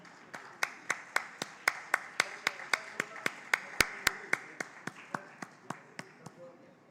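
Rhythmic clapping from a festival audience at a literary festival session, about twenty evenly spaced sharp claps in steady tempo, fairly close and clear rather than a dense roar of applause, with no talking.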